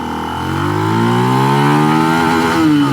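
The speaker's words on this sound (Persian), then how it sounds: "خب دنده های موتور هم باید تست کنیم و تاپ اسپیدش رو بزنیم" A Benelli TNT 150i motorcycle engine revs up loudly and climbs in pitch, then drops and climbs again as it shifts through gears, close and continuous.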